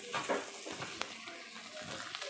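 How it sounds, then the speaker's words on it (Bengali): Okra frying in a pan on a home kitchen stove, with a steady close sizzle and a few brief stirring scrapes and clicks throughout. "এই যে এখানে ঢ্যাঁড়স ভাজা হচ্ছে"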